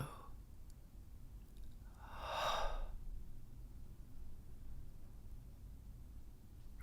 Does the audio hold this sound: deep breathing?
yes